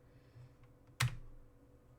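A computer keyboard gives one sharp, close keystroke after a couple of faint taps, in an otherwise quiet room.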